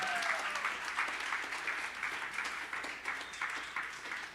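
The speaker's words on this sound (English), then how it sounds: "Big applause for Mikołaj." Applause for a speaker at an online WarsawJS JavaScript meetup, moderately quiet, steady, even clapping that stays level for several seconds without any talk.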